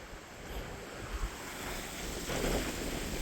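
Wind gusting across an exposed mountain trail on a 485-meter peak in Byeonsanbando National Park, a steady roaring rush buffeting the microphone, swelling louder toward the end with no voices.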